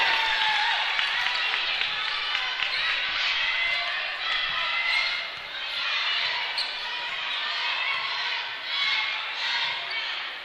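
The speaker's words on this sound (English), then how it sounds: "You can hear this crowd noise because we're down here on the floor." Steady, loud crowd roar fills a gym during a high school girls' basketball game, heard from courtside on the floor, with occasional swells of cheering and faint ball and shoe sounds throughout.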